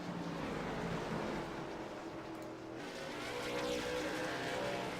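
Race cars run on the track during the American Diabetes Association 100, making a continuous loud engine roar. One car sweeps past close by partway through, and no voice is heard over the noise.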